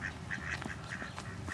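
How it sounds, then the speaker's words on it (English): Ducks quack in short repeated bursts at moderate distance, with some nasal calls overlapping in an outdoor setting. "Look at the duck."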